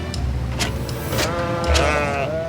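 Sheep on a grassy North Sea coast dike bleat several times, loud wavering cries rising over a steady low outdoor rumble, with a few sharp higher calls mixed in.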